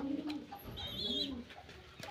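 Pigeons in a loft cage give soft, low cooing calls, close by, with a couple of rolling coos over faint background rustle and no talking.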